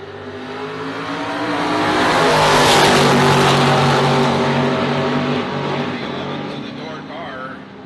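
Bracket racing cars at Immokalee Regional Raceway in Florida roar down the drag strip, the engine howl swelling to a loud peak and then easing as they pull away, with an announcer talking over the noise.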